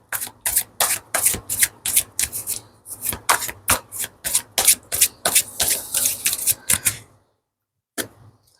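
An oracle card deck being shuffled, with a quick run of about two dozen sharp, evenly spaced riffling slaps, loud and close, ending in a short pause and one last flick.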